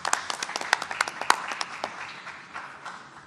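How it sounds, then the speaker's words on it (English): A small group applauds the National Guard at a COVID-19 drive-through testing center, a few seconds of scattered close claps that thin out and fade. "Let's give them a round of applause."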